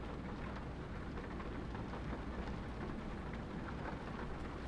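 Rain pouring down in a trucking video game, a steady, dense hiss of falling drops that holds evenly at moderate level throughout, with no voices over it.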